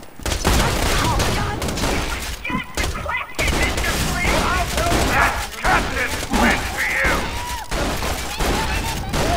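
Rapid shotgun and gunfire bursts in Borderlands 2 as a midget shotgunner is taken down, loud and dense throughout with brief gaps, mixed with game effects and some talk.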